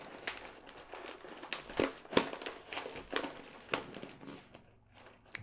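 Snack packaging crinkles and crackles as it is handled, with uneven bursts of rustling and a few sharper crunches close up, fading at the end with no talking.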